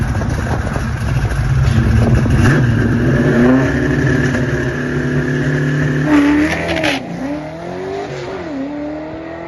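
Naturally aspirated drag car launching down the strip on tweaked tires, its engine revving hard and loud, climbing through gears with brief tire chirp, then fading slightly as it pulls away.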